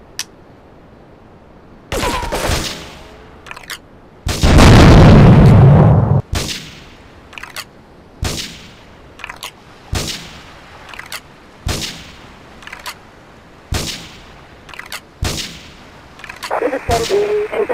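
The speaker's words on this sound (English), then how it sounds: "investigate reports of gunfire and explosions." Gunfire and explosions in the video game Grand Theft Auto III: a steady run of sharp, loud shots spaced about every second, with a heavier booming blast near the start and a dense burst of fire at the end.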